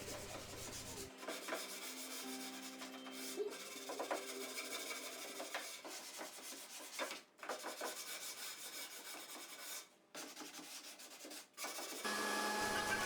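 Sanding cork rubbed back and forth over a wooden French door's moulded glazing sections, a steady close scratchy rasp with brief pauses between strokes.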